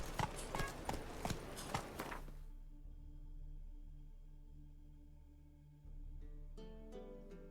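Roach's hooves clatter in a quick, close run of clip-clops in a video game, then stop, leaving a low tonal hum and sparse soft ticks before faint rhythmic hoofbeats return near the end.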